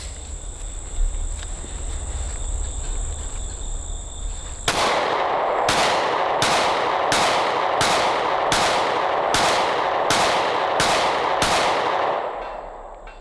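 Smith & Wesson Shield Plus pistol fired at a range: nine sharp, evenly spaced shots in quick succession, loud and close, after a few seconds of quiet outdoor hum.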